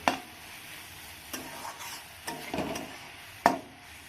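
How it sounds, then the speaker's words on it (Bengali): Hog plums are stirred with five-spice mix in a pan: quiet scraping strokes and a few sharper knocks of a utensil against the pan over a faint, low sizzle. "পাঁচফোড়নার সঙ্গে ভালো করে মিশিয়ে নিচ্ছি"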